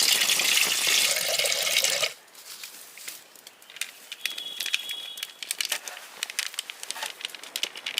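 Water pours into a hot pot on a fire for making tea, a loud close rushing splash for about two seconds, then dying into faint crackling and scattered drips.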